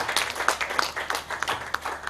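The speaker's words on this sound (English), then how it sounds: "a round of applause for Frederick Gilbert, posthumously" Small workshop audience applauding, a sparse run of individual claps heard fairly close, uneven and short-lived.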